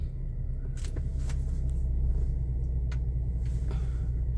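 A car rolling through a residential neighborhood heard from inside: a steady low engine and road rumble, with a few faint clicks and rattles over it.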